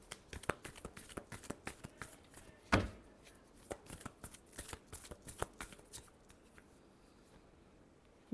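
Tarot cards being shuffled by hand in a quick, irregular run of crisp riffling flicks and slaps, close and fairly quiet, with one sharper knock partway through and no talking.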